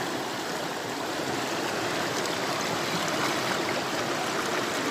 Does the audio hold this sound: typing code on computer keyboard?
no